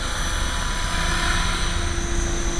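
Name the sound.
HK500GT RC helicopter running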